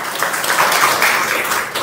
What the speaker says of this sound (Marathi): ही टाळी तुम्ही स्वतःसाठी वाजवली